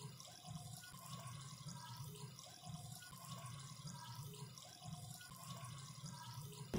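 Sweet maida biscuit pieces fry in hot oil in a kadai, a soft, steady bubbling sizzle with gentle pulsing swells, fairly faint and close, with no talking.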